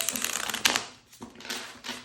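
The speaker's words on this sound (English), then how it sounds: "I had some feedback that I shuffle too loudly" Tarot cards being shuffled by hand, producing soft rustling riffles and a sharper slap partway through, followed by quieter shuffling bursts, all without talking.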